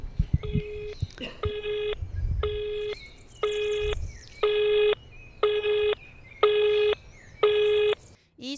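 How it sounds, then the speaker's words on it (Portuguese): Telephone keypad tones sound at the start, followed by a steady busy signal of eight evenly spaced beeps, loud and close, with a little background voice and handling noise early on. "E só dá ocupado."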